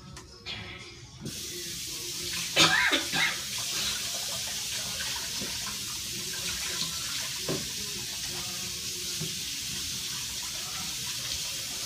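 Water runs steadily from a kitchen tap during cleanup after chopping, a constant hissing flow with a few clattering knocks near the start and again partway through.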